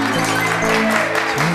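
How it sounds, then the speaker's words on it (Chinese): An audience on a Chinese-language New Year variety show claps in a dense, steady burst of applause to welcome a singer-songwriter, with tonal music or voices running beneath it. "掌声欢迎"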